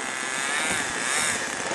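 A radio-controlled model airplane comes in to land on grass, its propeller motor whining steadily and loudly close by.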